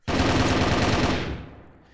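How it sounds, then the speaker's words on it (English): Sustained rapid automatic gunfire during a big firefight in a competitive team shooter match, a loud dense rattle that runs steadily and then tapers off toward the end. "Having a big gun battle."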